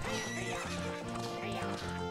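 Epona neighs and gallops in Zelda: Ocarina of Time on 3DS, whinnies over a quick thumping run of hooves and game music, all dense and loud.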